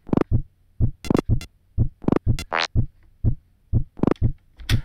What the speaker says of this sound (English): this is more of a drum pattern type thing,